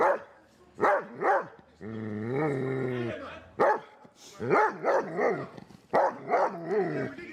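A police dog barks repeatedly in loud, close bursts, with a sustained whining or howling stretch in the middle, during a tense police call-out at a residential address where a man fell from a window.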